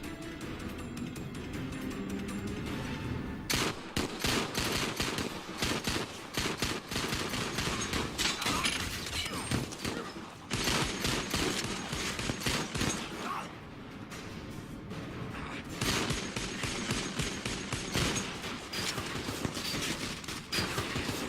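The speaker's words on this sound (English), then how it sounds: "the two spend an ungodly amount of time shooting dirt" Sustained gunfire from the action film Wolf Warrior, dense rapid volleys of shots with brief lulls, loud and continuous with no speech.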